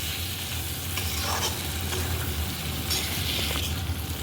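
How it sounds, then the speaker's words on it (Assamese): Tomatoes fry with salt, turmeric, fish masala, cumin and coriander powder in a pan, giving a steady, close sizzle broken by scraping stirs, loud and continuous without speech. "অকণমান ধনিয়া পাউডাৰ দি অলপমান ভাজি ল'ম"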